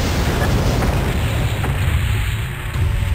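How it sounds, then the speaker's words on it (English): A heavy boom and rumbling blast as an enemy mech is destroyed in the combat game MechWarrior 2: Mercenaries, a dense, sustained roar filling the whole stretch at steady loudness. "Enemy mech destroyed."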